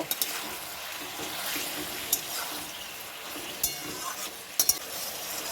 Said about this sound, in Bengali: এই চিকেনগুলোকে এখন আমি ভালোভাবে মশলার সঙ্গে কষিয়ে নেব